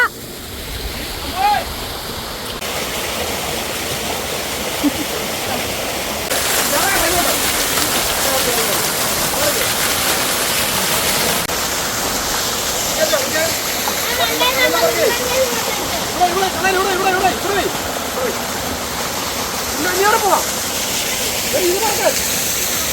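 Heavy rain pours steadily beside a rushing stream, a dense constant hiss with water splashing nearby, loud and unbroken for the whole stretch, with faint voices murmuring beneath it now and then.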